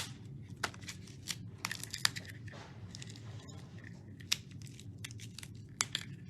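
Scissors snip and crinkle through paper packaging on a 6x6 designer paper pad, a quiet series of sharp close cuts and rustles spaced irregularly over soft background noise.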